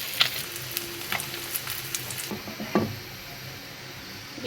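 Fish fry in hot oil in a pan with a constant crackling sizzle, dotted with occasional pops and light utensil taps, close up and with no talking.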